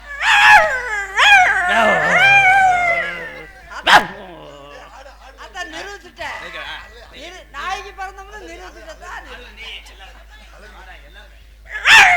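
A man imitates a dog with his voice, producing a long wavering howl followed by yips, barks and hiccup-like yelps, loud and close, with sharp bursts near the start and end.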